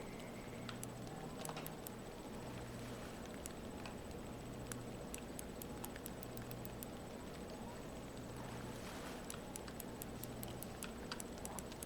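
Rain pattering on a lake in Fishing Planet, a soft continuous hiss scattered with sharp little drop ticks, steady and faint with no talking.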